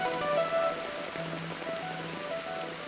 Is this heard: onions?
no